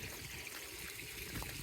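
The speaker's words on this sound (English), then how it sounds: "We have the drip irrigation going." Drip irrigation line with a dripper every foot waters a herb garden bed topped with sawdust, chicken and turkey manure compost, giving a faint, steady close trickle of water with no voices.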